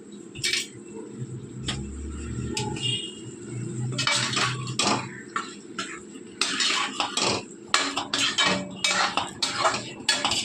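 Spoon stirring and scraping cut boiled eggs into egg masala gravy in a metal pan, a series of irregular clinks and scrapes close by, with a little soft background noise and no speech.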